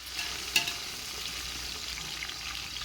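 Mint and coriander leaves frying in a biryani pot over a wood-fired stove: a steady, moderate sizzle with one sharp stirring clack early on.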